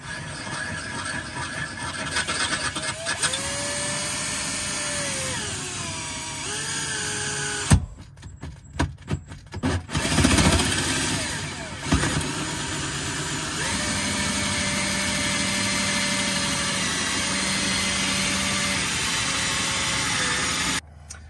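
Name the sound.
power drill drilling a hole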